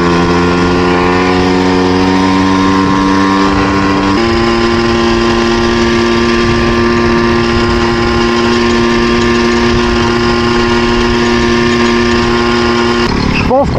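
A hybrid moped engine runs steadily throughout, a loud continuous buzzing drone that drops slightly in pitch partway through and holds near the listener without pause.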